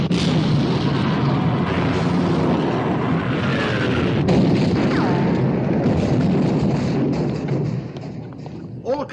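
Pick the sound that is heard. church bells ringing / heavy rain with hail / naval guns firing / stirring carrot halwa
naval guns firing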